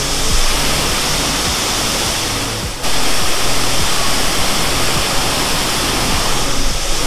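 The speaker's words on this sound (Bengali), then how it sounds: "ঝর্ণার কতটা কাছে দেখো।" Bamni Falls in Purulia roars up close, a dense, steady wash of falling water filling the whole spectrum with only a brief dip midway.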